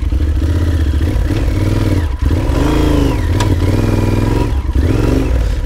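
A big-trail adventure motorcycle on an expedition through Jalapão idles loudly up close, then revs and falls back repeatedly. Mechanical clatter sits under the engine note and no one speaks.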